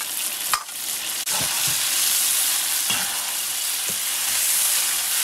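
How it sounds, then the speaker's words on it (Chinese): Bean paste, soybean paste and soaked spices stir-fried in hot oil in a wok, a steady loud sizzle with a few scraping stirs of the spatula, no talk. "两勺豆瓣酱，两勺黄豆酱，炒香炒出红油， 下入泡好的大料炒香"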